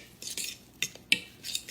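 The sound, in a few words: mixing burger mixture with grated Parmesan and basil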